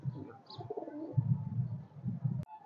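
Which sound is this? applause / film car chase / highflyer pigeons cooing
highflyer pigeons cooing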